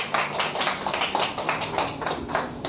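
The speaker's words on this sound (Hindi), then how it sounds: "तो अपने लिए ज़रा तालियां बजाएं।" A small group clapping their hands together in a room, brisk rhythmic claps repeating steadily at close range with no talk over them.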